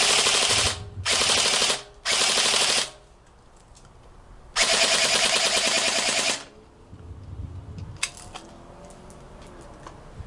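Bursts of full-auto fire from an AJs Tactical EMG Daniel Defense SOPMOD Block I airsoft rifle: three short rattling volleys, then one longer sustained burst, loud and close, followed by quieter handling noise.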